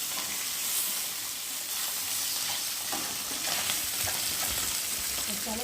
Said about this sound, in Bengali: দেখো মাছ এক পিস করে ভাজা হয়ে গেছে আর এক পিস করে এখন আমি উল্টি উল্টিয়ে দেবো